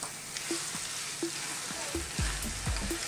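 Tomato stirred into onions sizzling in a pan for an Ethiopian ginger lamb stew, with steady close frying hiss and a few soft scraping stirs.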